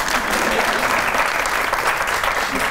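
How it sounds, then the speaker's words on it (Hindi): Dense, loud audience applause fills a comedy show hall, a steady wash of many hands clapping together without a break for nearly three seconds. "अगर आपको लगता है कि लगते हैं ताली बजाइए।"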